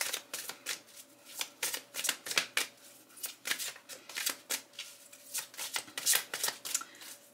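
Tarot cards are shuffled by hand, a steady run of crisp riffling bursts repeating every half second or so, close and fairly quiet with no talking.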